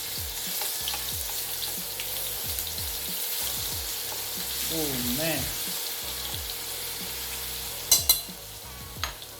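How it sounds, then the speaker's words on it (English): Chopped garlic sizzles and crackles steadily in a hot pan as an easy sauce gets started, a bright constant frying hiss with utensil scrapes and a few clanks, while a voice speaks briefly. "I've cut up my garlic. In she goes. Just gonna let that fry up."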